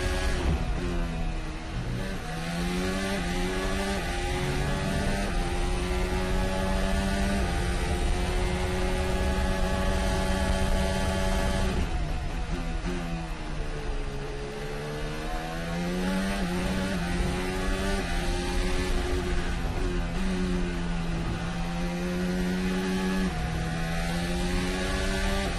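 Formula 1 cars race at the 2019 Bahrain Grand Prix, with a steady high-pitched engine whine rising and falling in pitch as cars pass during an overtake, continuous and fairly loud.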